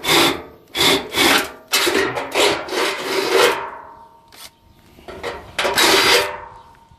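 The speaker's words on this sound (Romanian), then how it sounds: "Dăm până nea 10, să vedem cât de bine taie și asta." A 10 mm spiral drill bit bores through a stainless steel sink, giving harsh grinding bursts in several close, loud runs separated by short pauses, with no talk over it.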